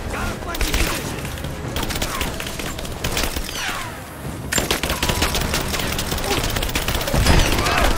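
Covering gunfire in Rise of the Tomb Raider: rapid automatic bursts and a dense fusillade of shots with splintering impacts, loud and close, broken by a short lull before heavy firing resumes.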